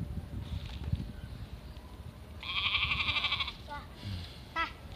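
Goats bleat outdoors while being herded to graze, with one long, loud bleat and a few shorter calls after it, over rustling and nearby voices including a child's.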